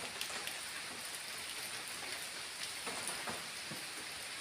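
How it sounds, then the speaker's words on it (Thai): Rain falling outdoors, a steady faint hiss of drops on surfaces with a few closer patters, continuous and alone without any voices. "ฝนตก พี่น้อง เดี๋ยวนี้"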